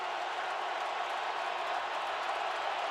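Loud, steady roar of a stadium crowd at an NFL playoff game, the Packers at the Cowboys in the NFC Divisional round, a dense wall of noise with no breaks throughout.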